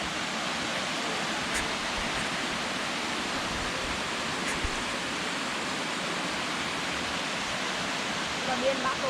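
The Schlossrinn waterfall in Bavaria, Germany, dropping fifty meters in free fall, a steady dense roar of falling water that stays constant and close throughout.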